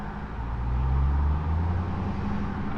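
A Dodge Hellcat pulling away in first gear, its engine a deep continuous rumble heard from inside or close by, steady and moderately loud with no voices over it.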